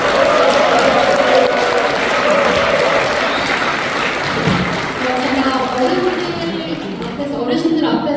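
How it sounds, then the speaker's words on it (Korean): An elderly audience at a Korean lecture series gives a lecturer a loud, sustained round of applause, with a voice talking over the clapping throughout. "다시 한번 연락해 주신 백지원 강사님께 큰 박수 부탁드리겠습니다."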